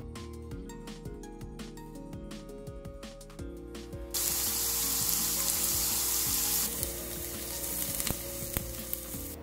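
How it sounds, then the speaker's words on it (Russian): Finely chopped onion is cut and then fried in oil: a run of quick knife taps on a board gives way to a loud, steady sizzle as the onion hits the hot oil, with a few stirring scrapes. "Сейчас я мелко нарежу луковицу и буду ее обжаривать на масле."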